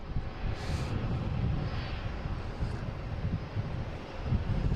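Airliners at Boston Logan airport, including Delta and Lufthansa jets, produce a distant steady engine roar mixed with light wind noise, faint and continuous, without talk.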